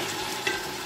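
Peppers and tomato frying in a pan for a Cameroonian chicken and plantain dish, a steady close sizzle and crackle running throughout with a brief stir near the middle.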